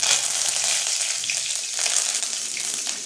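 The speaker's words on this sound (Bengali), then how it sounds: "দিয়ে দেবো কারি পাতা" Curry leaves drop into hot oil already tempered with bay leaf and whole cumin, giving a busy, crackling sizzle with occasional sharper pops that carries on steadily.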